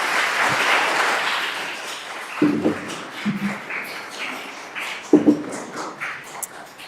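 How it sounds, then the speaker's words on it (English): An audience at a civic education event claps for student presenters. A dense burst of applause fades into a few scattered, separate claps. "Let's give them another round of applause."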